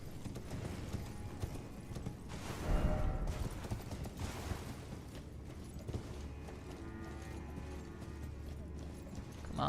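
Hooves of a horse clip-clop at a steady trot in the Elden Ring video game, faint and rhythmic, with soft mechanical creaks and game ambience around them.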